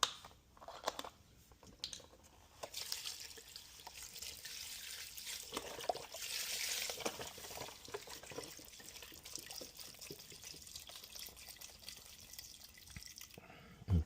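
Liquid is poured from 32-ounce containers into an Instant Pot for a 15-bean turkey soup, making a steady splashing, gurgling pour that runs about fourteen seconds at moderate loudness.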